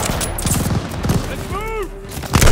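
Rapid bursts of gunfire in a Call of Duty: Vanguard battle, short sharp cracks clustered near the start and end of the moment, mixed with a brief whistling tone and shouted voices.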